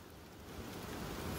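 Rain falls while fishing outdoors as a broad, steady hiss that builds slightly in loudness over a brief moment, with no talk.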